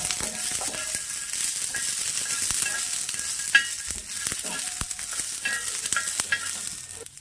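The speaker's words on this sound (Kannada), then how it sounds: "ನೀವು ಸ್ವಲ್ಪ ಆಯಿಲ್ ಹಾಕ್ಕೊಂಡು ಈ ಥರ ಫ್ರೈ ಮಾಡಿಕೊಂಡು" Pigeon peas frying in a little oil for a chutney, a steady close sizzle with scraping stir strokes and light pan rattles throughout, no talking.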